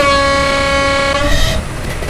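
Locomotive horn of a ChS7 electric engine hauling a Moscow to Belgorod express in the ZDSimulator train game, one loud sustained blast sounded near a crossing, then cutting off into rumbling running noise.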